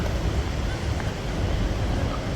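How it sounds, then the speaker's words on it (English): Strong wind blows outdoors at a station, a constant, loud broadband roar buffeting the microphone with no breaks. "Very strong wind is blowing."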